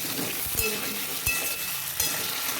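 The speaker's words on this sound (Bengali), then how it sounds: "আলুটা একটু নাড়াচাড়া করবো" Potatoes fry in a pan for a green bean and potato dish, with a steady sizzle under three distinct stirring scrapes spaced roughly evenly, close and moderately loud.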